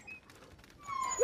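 A dog whimpering in the game Far Cry while dogs are being freed from cages: a brief, high, thin whine rising at the end of a short moment of quiet background.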